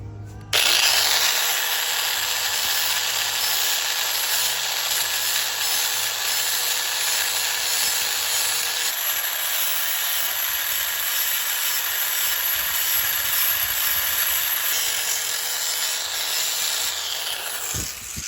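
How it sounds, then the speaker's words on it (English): Small cutoff wheel used as a grinding disc on a 2005 RM 125 grinds metal in one loud, steady, high-pitched whine lasting nearly the whole stretch, close up and with no talking. "Well, it's a cutoff wheel, but it identifies as a grinding disc"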